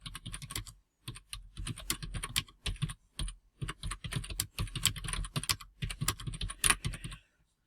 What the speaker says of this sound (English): So here I would type a question.